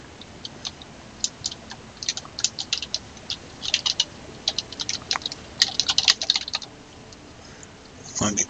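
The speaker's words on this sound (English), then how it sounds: "Wow, my keyboard must be breaking." Computer keyboard typing in quiet surroundings, irregular bursts of light clicky keystrokes with short pauses, a thump near the end, no voices.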